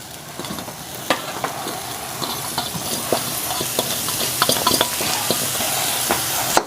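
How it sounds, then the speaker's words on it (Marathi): Cooked kurdu greens tossed into a hot pan and stirred, giving a loud continuous sizzle with frequent sharp spatula clinks and scrapes against the metal, close by. "आपण याच्यामध्ये शिजून घेतलेली कोडूची भाजी ती आपण याच्यात टाकणार आहोत"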